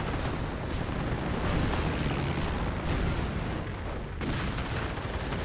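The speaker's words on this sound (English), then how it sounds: "Panthers receiving quite a bit of fire." Dense, continuous gunfire and explosions in a Company of Heroes battle as Panther tanks come under fire, a rumbling barrage of overlapping shots and blasts with no pauses, loud throughout.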